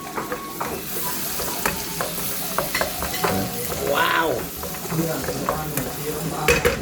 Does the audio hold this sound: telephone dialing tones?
no